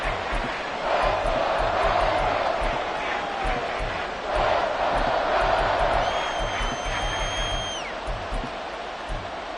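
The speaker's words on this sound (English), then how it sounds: "This crowd trying to force a false start here." A roaring stadium crowd in a football video game swells and holds in a broad, steady wash of noise, with whistle-like tones rising near the end and a commentator's voice talking over it.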